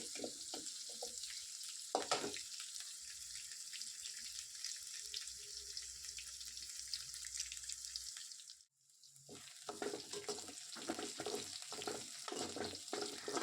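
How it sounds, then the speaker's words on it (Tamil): Cumin, ginger and onion sauté in hot oil with a dense, hissing sizzle and occasional stirring scrapes, close by. The sound cuts out briefly midway, then returns with more clinks of the spoon. "இப்போ இது எல்லாத்தையுமே நான் எண்ணெயிலே வந்து நல்லா வதக்கி எடுத்துக்க போகிறேன்"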